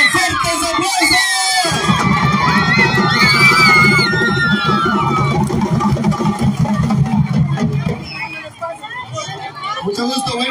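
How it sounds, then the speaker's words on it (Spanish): A lively crowd in Guatemala cheers and shouts a farewell, with dense chatter, close voices and loud excited calls throughout. "Así que nos despedimos con fuertes aplausos."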